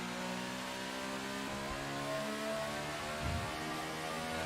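A Formula 1 car engine in the F1 2018 video game, sounding a bit sickly, drones steadily at moderate volume with layered harmonic whine and slight pitch shifts, with no talk over it.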